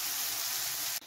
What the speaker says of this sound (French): je suis en train de faire cuire les poireaux